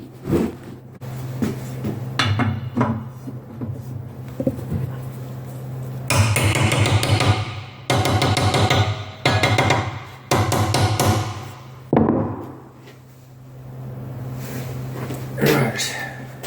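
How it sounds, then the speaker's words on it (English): Repeated rapid hammer taps ring on a tight-fitting camshaft part of a 2003 Ducati 749S in several loud bursts, separated by pauses with quieter talking and workshop noise; the bench flexes. "But tap it on with a hammer"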